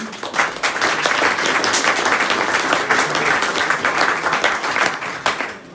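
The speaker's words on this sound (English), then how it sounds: "I think a big round of applause is warranted for all the winners." A crowd at a golf club awards presentation night applauding steadily, dense clapping that holds at an even loud level throughout.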